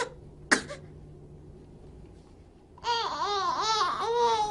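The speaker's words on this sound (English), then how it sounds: "she does a fake cough with her mother" A baby gives a short, sharp fake cough, then after a quiet pause breaks into rising and falling babbling, vocal sounds close to the microphone.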